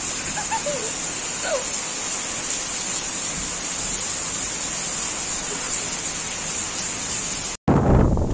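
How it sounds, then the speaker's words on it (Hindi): Steady rain falling outdoors in a village farm setting, a continuous close hiss of drizzle that holds evenly before cutting briefly near the end. "रिमझिम रिमझिम बारिश।"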